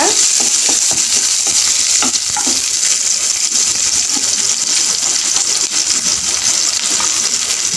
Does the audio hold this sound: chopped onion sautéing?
yes